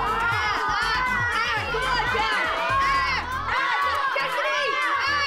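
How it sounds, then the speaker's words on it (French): An audience of children shouts out their choice together at a French game show, a loud, sustained burst of excited young voices and cheering that dips briefly before swelling again. "Alors, la foule a l'air de dire A."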